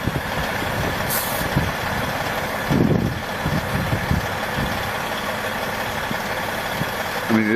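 Low, steady rumble of a truck engine idling throughout, with brief clunks and mechanical knocks midway and continuous broadband background noise; no talk.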